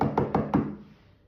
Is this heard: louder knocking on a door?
yes